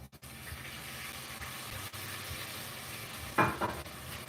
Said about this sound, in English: deglazing the pan with the red wine. Okay. Give that a stir.